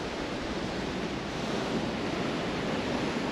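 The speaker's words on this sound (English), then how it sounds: "you can see how the water is, or the sea is hitting against the rocks" Sea waves breaking against rocks near Las Cuevas on the coast of Trinidad, a steady, loud, broadband roar of surf with no pauses or voices.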